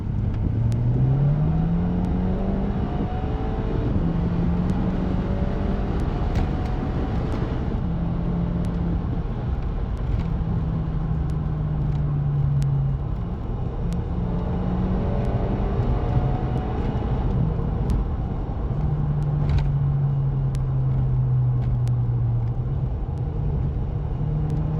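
Volkswagen Golf GTI Edition 30 driving steadily on the road, its engine drone rising and falling through several gear pulls, with a constant close rumble and no voices.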